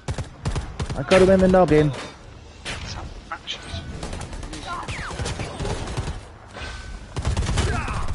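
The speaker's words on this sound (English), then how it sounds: "Oh no, I'm getting shot at." Bursts of rapid gunfire in Predator Hunting Grounds, sharp cracks in clusters near the start and end, with thuds and other game effects between them and someone talking over the action.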